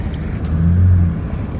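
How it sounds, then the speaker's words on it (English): A deep, loud performance car engine drone swells briefly and eases off, a low rumbling rev heard up close with no talking. "I'm gonna let y'all hear the engine. This is, you know, that performance motor."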